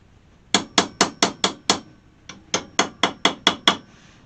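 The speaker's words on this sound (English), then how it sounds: "trying to hammer it with a flat part or a flat punch" Sharp metallic hammer blows on stainless steel hood trim from a 1968 AMX, struck with a flat punch in a steady rhythm, six strikes, a brief pause, then seven more, close and loud with no talking.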